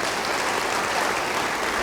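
A church congregation applauds in a steady, dense wash of clapping that fills the whole moment without a break, moderately loud and heard from within the room.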